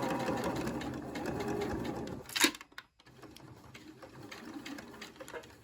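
A sewing machine stitches a bib shirt collar, running steadily for about two seconds, then stopping with a short clack before a quieter stretch of faint handling noise.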